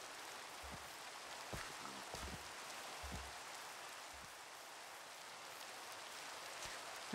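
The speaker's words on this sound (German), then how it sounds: "Jetzt regnet es auch noch." Minecraft rain sounds as a faint, steady wash of falling drops with no other sounds over it, holding evenly throughout.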